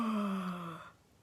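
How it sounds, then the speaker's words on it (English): A single drawn-out yawn from a storyteller leading a bedtime singalong, voiced and falling in pitch, loud up close for most of a second and then trailing off into quiet. "Yawn your sleepies out, yawn."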